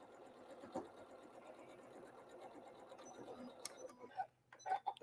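A sewing machine stitches a quilt seam with a fast, even mechanical whir that runs steadily, ending in a few sharper clicks and taps as it stops.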